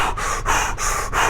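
Forceful power breathing in a fire-breathing drill: four strong, rhythmic breaths in and out through the mouth, loud and close with no talking.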